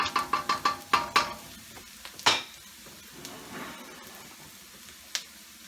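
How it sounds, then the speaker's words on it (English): Cornstarch-coated fillets of sole go into a hot pan with jalapeno for salt and pepper fish, a run of sharp clinks and stirring scrapes followed by a quiet, light sizzle. "in goes the fish, you know, the fried fish that we had, Filet Of Sole, that we had coated with cornstarch"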